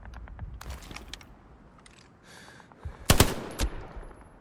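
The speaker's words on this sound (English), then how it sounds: "So we just sniped him basically using the binoculars" A sniper rifle shot in the World War II shooter Hell Let Loose: a single sharp, loud crack late on, followed by a short echoing tail, after quieter distant pops and low background rumble.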